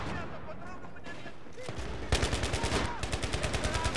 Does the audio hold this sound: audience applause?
no